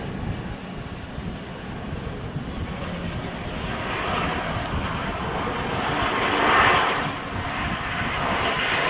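A Loganair ATR 72 turboprop airliner approaching an airport on landing, a steady broad engine roar with wind buffeting the microphone, swelling slightly louder as it nears, no talk.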